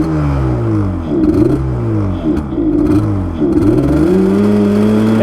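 A two-stroke engine, running with food coloring added and smoking heavily, revs repeatedly, its pitch rising and falling in loud, close surges with a rattling buzz between them.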